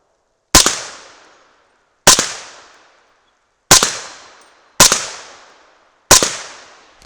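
Five suppressed 300 Blackout rifle shots firing powder-coated bullets at swinging steel plates, each a sharp loud report with a decaying tail, spaced roughly one and a half seconds apart, with no talking.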